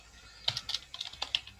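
Typing a folder name on a computer keyboard, a quick run of light clicking keystrokes at close range in a quiet room.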